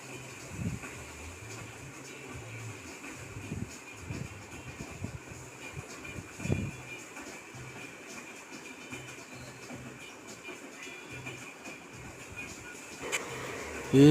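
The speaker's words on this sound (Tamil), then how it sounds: "ட்ரெயின் வருதுடா." A train in a mobile video game rumbles steadily throughout with a faint rhythmic clatter, running under game music and sound effects, and a sharp louder burst at the very end.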